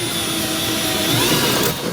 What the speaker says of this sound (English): If you run the hole saw backwards, you actually get a little bit cleaner cut.